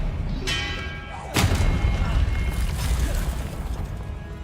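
Spell cast in the Hogwarts Legacy game: a bright chiming whoosh followed by a heavy booming impact and a lingering magical rumble, loud and close, with no talking over it.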